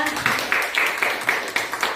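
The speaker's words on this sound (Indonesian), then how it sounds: "Kita tepuk tangan dulu untuk Ibu Parhusip ya" School audience at an Indonesian teacher dissemination session clapping together in a quick, regular rhythm of roughly four beats a second, a bright and fairly close patter with no talk over it.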